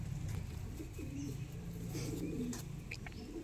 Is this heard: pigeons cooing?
yes